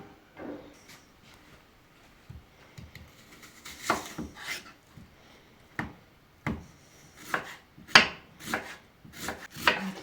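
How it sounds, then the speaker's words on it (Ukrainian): Onion chopped with a knife on a board, a series of sharp uneven taps that grow denser and louder toward the end, close and otherwise quiet with no talk. "Мені грубше цибуля ріж."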